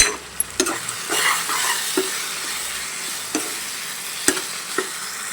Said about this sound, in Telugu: వేసాను, ఇప్పుడు తిప్పుదాం.